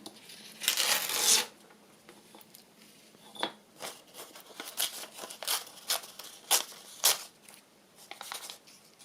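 Strips of material being torn off for a spring beach paper-craft folio, a series of short rasping rips and crinkles, up close and fairly quiet, with small pauses between them.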